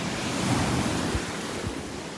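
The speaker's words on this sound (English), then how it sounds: "Waves are beautiful." Ocean surf at Delnor-Wiggins beach breaks in a steady, continuous wash with low rumbling surges, with some wind noise buffeting the microphone and no voices.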